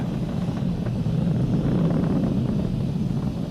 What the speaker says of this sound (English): We've exceeded Mach 1 on the Falcon 9.